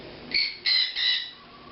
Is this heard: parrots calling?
yes